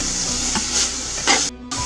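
A ground paste with mint and coriander leaves fries in a pan as a steady close hiss and sizzle with a few soft stirring scrapes and a brief drop-out near the end.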